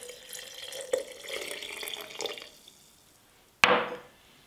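Water from a tap pours into a jar of chopped shallots, a gurgling trickle for a couple of seconds, then a brief louder splash near the end, close and fairly quiet.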